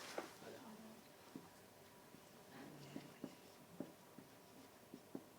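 A pen writes a maths formula on paper or a board, with faint, quiet scratching strokes and small taps spread through the quiet, low-level background.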